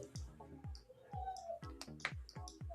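A computer mouse is clicked repeatedly in quick, irregular bursts of soft, faint clicks with short pauses between them.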